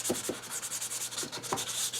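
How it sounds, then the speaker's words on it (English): Sandpaper rubbing over a thinned shellac finish on a cherry wood spice box, a steady close scratchy rasp with a few sharper strokes standing out. "just so that the surface would break up like this when I sand it"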